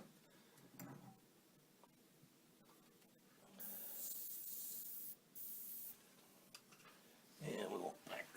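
Two bursts of bright, hissing airbrush spray, each lasting a second or two, between quieter stretches of faint handling noise.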